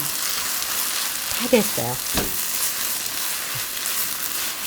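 Onions stir-fried in a pan, a steady broad sizzle running throughout with a few spatula scrapes, while a voice briefly speaks over it.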